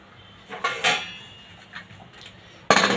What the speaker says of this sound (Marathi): मी लीड लावून घेते